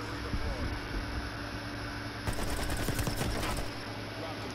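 AK rifle fire in Call of Duty Black Ops Cold War multiplayer, a rapid automatic burst crackling over constant game ambience and hum.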